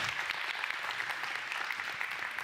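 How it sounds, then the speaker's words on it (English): A church audience applauds a speaker being welcomed, giving a steady, even patter of many hands at moderate distance, fairly soft and uninterrupted throughout. "clap for him, but let's do it again."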